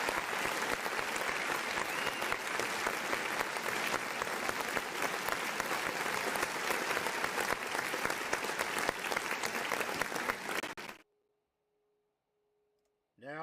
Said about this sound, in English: Give yourselves a round of applause for hanging out with us